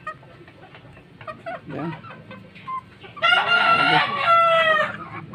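Chickens clucking softly in a yard of fighting roosters, then a loud rooster crow bursts in close by and carries for a couple of seconds, with a brief word spoken over it.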